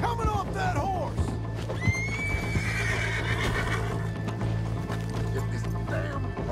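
A horse whinnies loudly over steady hoofbeats and a constant mechanical hum, with someone shouting in the background, in the video game Red Dead Redemption 2.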